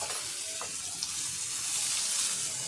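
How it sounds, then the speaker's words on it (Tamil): Onion, capsicum and curry leaves sauté in hot oil with fennel seeds, giving a steady, close, loud sizzle with faint stirring throughout, no voices. "வெங்காயம் குடமிளகா கருவேப்பில போட்டு வதக்கிக்கோங்க"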